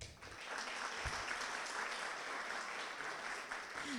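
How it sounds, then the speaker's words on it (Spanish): Sustained applause from a conference audience, steady and dense for the whole stretch, filling the room at even loudness. "por lo que le vamos a dar un fuerte aplauso a Dagoberto."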